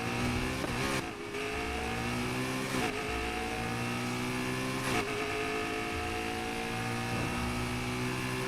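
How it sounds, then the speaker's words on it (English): In the Need for Speed Heat video game, a McLaren P1 GTR engine drones loudly and steadily, its pitch climbing through the revs. Brief dips mark each gear shift, at roughly two-second intervals. "McLaren P1 GTR engine"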